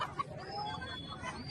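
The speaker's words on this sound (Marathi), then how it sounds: "इथं पण आलेला गावरान कोंबड्या" Desi country chickens at a Saturday bird market in Balapur, Akola, Maharashtra give off faint clucks and short calls over a low market hubbub.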